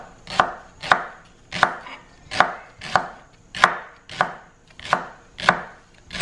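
Shallots chopped on a board while prepping for a Thai pad thai stir fry: steady, evenly spaced knife strikes, about nine crisp thuds in a row, close and clear with no talking.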